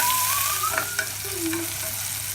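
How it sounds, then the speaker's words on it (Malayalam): Sliced onions with salt sizzle steadily in a hot pan, a constant bright frying hiss with occasional scrapes and clicks of a spoon stirring them. "ഇളക്കി കൊടുക്കാം"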